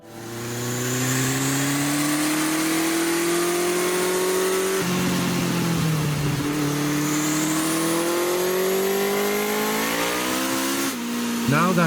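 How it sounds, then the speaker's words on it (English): A Honda CB1100 cafe racer motorcycle engine revs up and down in rising and falling sweeps, loud and close, holding a steady drone between throttle blips. "Now that you heard how the engine sounds"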